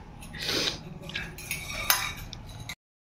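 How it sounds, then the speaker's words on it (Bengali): Metal spoon scraping and clinking against a bowl while someone eats puffed rice (muri), a few close, light strikes and scrapes, then silence. "মুড়ি খাচ্ছে চামচ দিয়ে"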